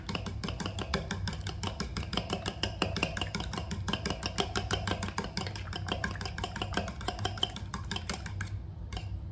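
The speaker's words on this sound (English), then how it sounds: "Okay, so I'm gonna whisk those up." A whisk beats rapidly against the inside of a bowl while mixing a recipe base, making fast, even, steady clicks and scrapes that run continuously at close range with no talking.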